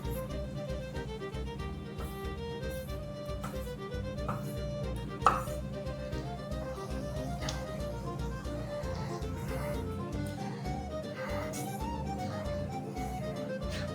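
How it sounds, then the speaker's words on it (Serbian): Liver being chopped with a knife on a board for pâté, a rapid, steady run of close knife taps continuing throughout under a constant low background hum, one slightly louder knock midway. "Džigericu seckam samo da bi sve ovo bilo u principu brže."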